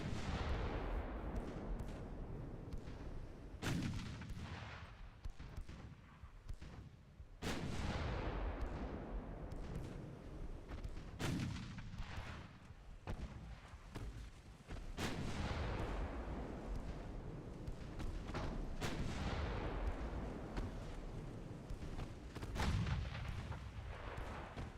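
Naval secondary guns firing HE shells in Ultimate Admiral Dreadnoughts, steady loud sharp gun reports every few seconds, each with a rolling decay, over continuous ship and battle rumble, with no talking.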